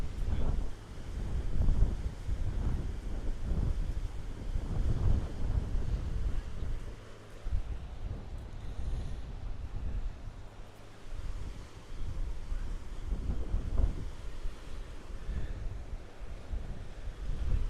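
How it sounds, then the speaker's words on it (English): Steady gusting wind at a beach buffets the microphone with a low, continuous rumble that swells and eases throughout, close and fairly loud, with no voices present. "Geez, what's that wind now?"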